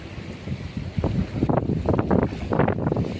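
Strong wind gusts around a fishing boat on open water, roaring in uneven bursts that grow louder and more frequent toward the end, with no talking.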